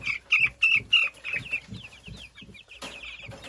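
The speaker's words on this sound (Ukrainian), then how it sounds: "Знову курчата трошки, трішечки лякаються" Small chicks cheeping in a cage in quick repeated bursts, high and close, with a faint low clucking beneath and a brief scattered chirping near the end.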